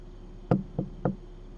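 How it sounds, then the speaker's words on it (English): Three distinct knocks on a window inside the SecurityBooth video game, spaced unevenly across about a second, sharp and fairly close against a faint steady background hum, with no talking. "You can knock on any window, every window."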